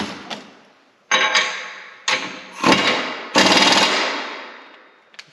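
An impact wrench works on a 14 bolt 40 spline front axle build, firing several loud, close bursts of rattling hammering that each trail off, separated by short pauses.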